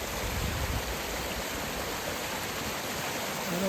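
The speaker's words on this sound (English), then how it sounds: "there's a lot of water coming through there." Flash flood water rushing steadily through a channel, a continuous broadband roar like a fast stream, moderately distant and even, with no talk.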